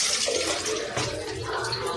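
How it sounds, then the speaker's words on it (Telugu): Water runs from a washbasin tap in the washroom of the Sathavahana SF Express train, a close, steady, full rushing stream with no pause. "వాటర్ కూడా మంచిగానే వస్తున్నాయి."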